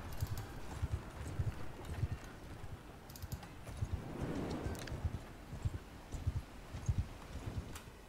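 Horse hooves clip-clopping at a steady gallop as a rider travels in the medieval combat game Mount & Blade 2 Bannerlord, a rhythmic low thudding pattern throughout, moderately loud with faint rustle and no talk over it.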